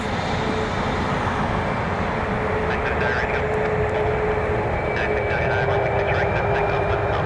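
A United Airlines Boeing 737 MAX 8 taxis briskly at an airport, its engines making a continuous, moderately distant roar with a steady hum and faint higher whine throughout.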